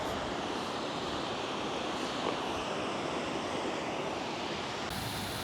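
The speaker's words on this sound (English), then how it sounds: "And look at this little waterfall." Small waterfall in Zion National Park, a steady broadband rush of falling water that stays even and continuous throughout, close and fairly loud with no voices.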